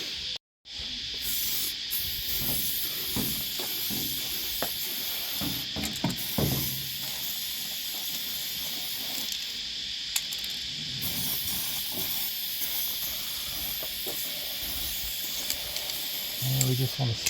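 Aerosol rust-prevention spray hisses steadily and up close into the underside of a Suzuki LJ80 during brake and rust work, a continuous broad hiss lasting most of the stretch with brief pauses and faint clatter beneath it.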